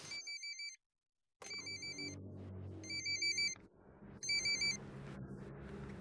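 A telephone rings for an incoming call, a repeating electronic trill in short bursts with brief gaps, over a low background rumble.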